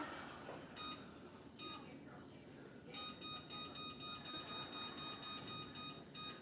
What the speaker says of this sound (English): I'm gonna set a timer.